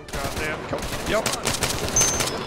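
Gunfire in the military shooter ArmA III rattles out in dense, overlapping bursts across the whole stretch, loud and fairly close, with sharp cracks mixed among sustained automatic fire and some faint voice activity underneath.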